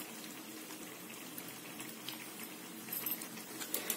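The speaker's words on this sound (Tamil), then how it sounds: "கடுகு நல்லா வெடிக்க விடுங்க, அப்போதான் அந்த குழம்பு டேஸ்டா இருக்கும்" Mustard seeds splutter in hot oil while tempering for a chickpea and brinjal gravy, giving a faint, continuous crackle of tiny pops that grows slightly busier toward the end, with no talking.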